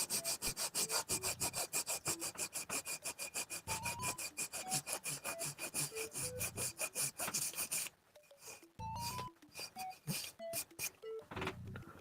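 A wet paper label being scrubbed off a tile with a nitrile-gloved hand: fast, steady back-and-forth rubbing strokes, close and loud, slowing into more uneven scrubs toward the end.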